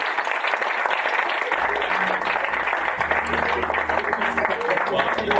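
Conference audience applauding, a dense, steady wash of clapping from a room full of people that carries through the whole stretch, with a voice speaking over it partway through.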